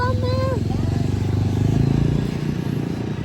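A motorcycle carries a family on a ride, its engine a steady low rumble throughout, with a brief rising high-pitched tone near the start.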